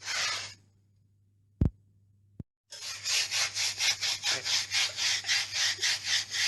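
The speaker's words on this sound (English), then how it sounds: "wet brush, just scrub that" Wet brush scrubbing interior brickwork in quick rhythmic strokes, about a dozen close raspy back-and-forth rubs in a steady pulse, following a brief pause broken by two sharp knocks.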